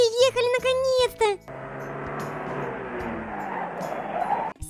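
A cartoon car arrives and skids to a stop with a long, loud screeching slide after a voice speaks, ending abruptly.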